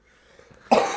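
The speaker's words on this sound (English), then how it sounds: "Excuse all the coughing and the yucky sounding." A single sharp cough bursts out near the end, loud and close, after a moment of near silence.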